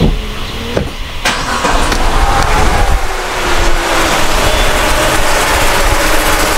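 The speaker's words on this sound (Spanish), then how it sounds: "Vamos a dar marcha al vehículo para ver que todo esté alimentado." A Peugeot 207 engine is started and runs loudly close by, a rough broadband rumble with a few clicks at the start, then a steady idle.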